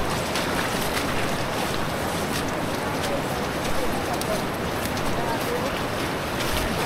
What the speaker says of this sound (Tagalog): Grabe yung ragasa ng tubig.